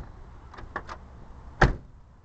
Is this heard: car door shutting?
yes